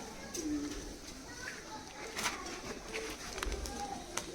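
Giribaz pigeons in a loft coo faintly at a distance, with scattered short bird calls and a steady hiss of background noise.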